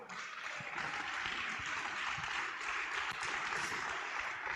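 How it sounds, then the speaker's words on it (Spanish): A church congregation at a Sunday service clapping together, a sustained even wash of many hands at moderate distance, fairly faint and continuous throughout. "dele un fuerte aplauso al Señor"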